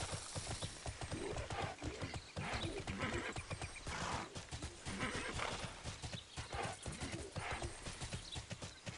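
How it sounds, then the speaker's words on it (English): Hooves clip-clop in a quick, steady rhythm as a horse is summoned in the video game TERA, and the horse neighs partway through, close and fairly loud. "Maybe I'm thinking I'm summoning my horse."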